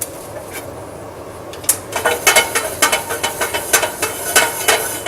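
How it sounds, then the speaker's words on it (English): Spice seeds dry frying in a hot pan, rattling and skittering as the pan is shaken, a run of sharp rhythmic clicks and scrapes that starts partway through and repeats at a steady pace, close and fairly loud. "we're just going to put these into a hot pan. Just going to basically dry fry these just to release the oils"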